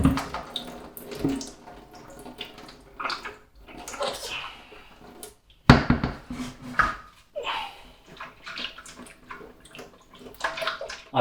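Water runs and splashes through a Pinter 2 brewing keg being tipped to purify it, with irregular gurgling bursts and pours that come and go over several seconds and no talking.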